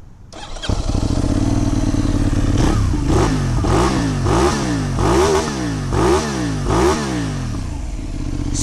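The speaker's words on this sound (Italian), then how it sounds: "adesso vi faccio sentire un po' il sound, perché nonostante lo scarico è originale Benelli" A Benelli 752S motorcycle on its original Benelli exhaust starts up and settles into a steady idle, then gets blipped through a series of regular revs, loud and close, with no talking.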